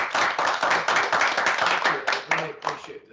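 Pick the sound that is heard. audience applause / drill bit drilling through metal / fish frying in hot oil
audience applause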